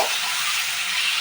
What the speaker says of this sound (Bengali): পেঁয়াজগুলো একটু ভেজে নেব